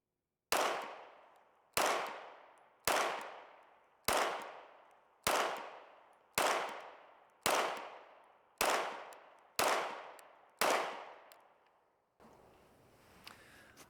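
Ten sharp, loud pistol shots from HK VP9 A1 handguns fire at a slow, even pace about one second apart, each with a crisp crack and a decaying ring, followed by quieter handling noise.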